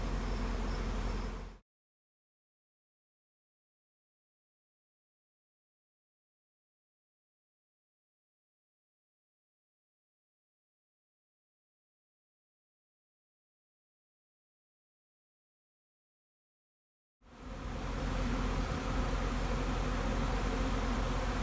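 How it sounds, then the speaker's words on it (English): Honey bees buzzing around hives while robbing during a honey harvest, a dense steady hum heard briefly at the start and again near the end, with a long stretch of silence between. "The guys get really motivated when the bees start robbing"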